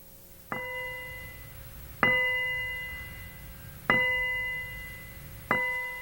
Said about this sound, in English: For whom does that bell toll for